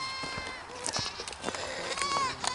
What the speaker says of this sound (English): I just want to show off how the frickin' goats won't stop screaming.